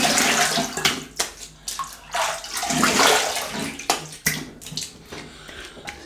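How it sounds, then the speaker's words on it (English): Running water splashes steadily over skin and a basin during a rinse after a wet shave with a vintage Perma Sharp blade and Scottish Fine Soaps vetiver-sandalwood lather, with several brief breaks in the flow. "Right, let me have a quick rinse."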